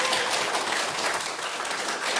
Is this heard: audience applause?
yes